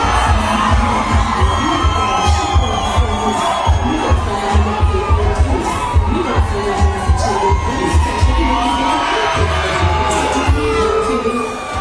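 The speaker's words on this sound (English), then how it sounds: "the crowd is going absolutely wild" A crowd cheering wildly at a high-energy event with flashing lights and pumping music, a continuous loud roar of shouting and whooping voices over a steady thumping low beat.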